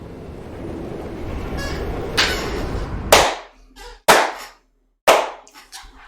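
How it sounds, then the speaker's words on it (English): Slow clapping from the Portal 2 video game finale: three to four loud, sharp, echoing claps spaced about a second apart, emerging after a rumbling background fades to silence. "Oh, my slow clap is still working."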